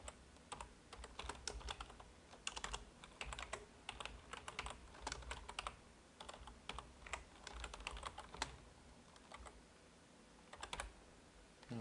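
Someone types on a computer keyboard, entering an address into a volleyball league website sign-up form, with quick irregular clicks in bursts and short pauses, close and clear with no talking.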